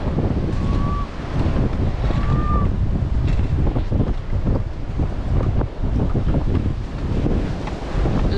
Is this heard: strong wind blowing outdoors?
yes